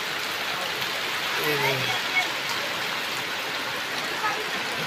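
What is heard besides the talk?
rain falling outside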